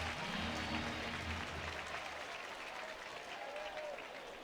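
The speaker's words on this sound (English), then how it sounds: "Got a big cheer from the crowd." A near-sellout baseball crowd at Dickey-Stephens Park roars and applauds after a foul-ball catch off the roof during a Northwest Arkansas vs Arkansas game, a loud, steady wash of cheering that eases slightly over about four seconds.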